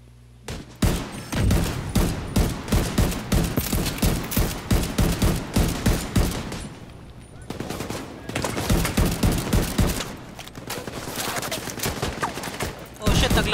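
Gunfire in the video game The Division 2: loud, sustained bursts of rapid shots in two long stretches with a short lull between, while players talk over it.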